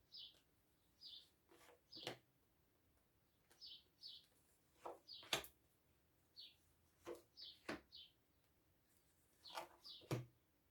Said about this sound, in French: Je ne sais pas si vous entendez les petits oiseaux qui gazouillent.